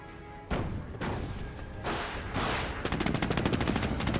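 Battle gunfire in the WWII strategy game Company of Heroes: sharp sniper-type shots crack out in separate loud bursts, followed by rapid rattling fire, with no talking.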